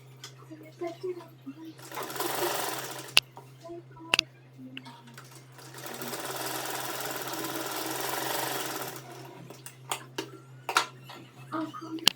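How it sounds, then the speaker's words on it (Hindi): A sewing machine stitches along a suit's lining in two sustained loud whirring runs, separated by clicks and handling noises, with a steady low hum beneath. "अब हम उल्टा करके इसको अस्तर के ऊपर भी एक सिलाई लगा देंगे"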